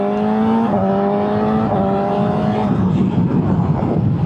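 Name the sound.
BMW M 1000 XR motorcycle accelerating in second gear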